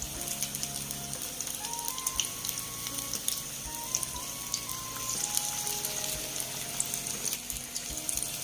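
Butter chicken patties fry on a medium flame with a continuous close sizzle and crackle of hot fat, steady throughout, while faint tonal kitchen sounds sit in the background.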